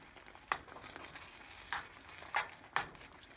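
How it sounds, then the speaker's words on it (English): Garlic sizzles in a frying pan with oil while a spoon stirs it, four or five distinct scraping strokes rising over a soft, continuous background sizzle, close by and with no talking. "Now you can see I just put my garlic in there, so I'm gonna stir that around."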